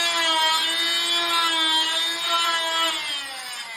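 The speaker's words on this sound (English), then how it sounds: "I just do a couple plunge cuts" A power saw making plunge cuts into the foam of an ICF wall, a steady high-pitched whining buzz held for several seconds at close range, easing slightly toward the end, with no voices.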